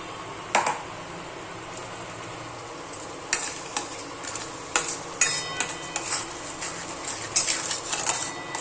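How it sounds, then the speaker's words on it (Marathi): Ground masala for a prawn curry roasts in oil with a soft, steady sizzle, then the spoon scrapes and stirs it in quick, irregular strokes, close by and moderately loud with no voices. "तेल सुटेपर्यंतच भाजून द्यायचं आहे."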